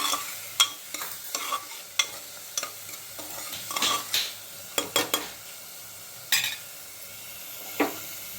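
Garam masala and salt being stirred in a pot while making khichdi, with irregular scraping spoon strokes and occasional knocks against the pot over a faint sizzle, close up, no talking.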